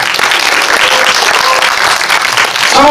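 A burst of audience applause at a film screening Q&A, loud and continuous, many hands clapping together for a few seconds with no voices on top.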